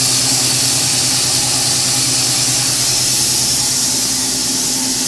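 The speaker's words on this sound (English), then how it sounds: "Cute little Z motor." A small Z-axis stepper motor on a CNC mill runs steadily, giving an even buzzing hum with layered tonal whines under a broad hiss, constant and close throughout.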